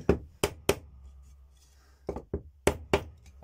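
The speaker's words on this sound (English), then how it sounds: "Excuse the banging." Nails are hammered into a wooden beehive frame, with sharp, close knocks: three quick strikes, a pause, then a second burst of four blows.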